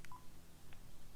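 Faint telephone dialing tones, a few short beeps, sound over steady low background hum as a phone is picked up during a live call-in show.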